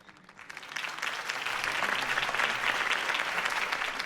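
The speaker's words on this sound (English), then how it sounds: "If only Mr. Wayne, my campaign's largest backer, could have heard that applause" A crowd applauds after a campaign speech in the Batman Telltale Series video game, clapping that starts soft and quickly swells into a steady, dense ovation lasting several seconds.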